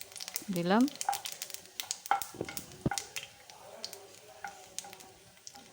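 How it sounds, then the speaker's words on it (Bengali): Two dried red chillies and a pinch of black cumin fry in hot oil in a pan, giving a soft sizzle with scattered clinks of a spatula against the pan. A voice speaks briefly over it. "দুটো শুকনো লঙ্কা আমি ভেজে নেব"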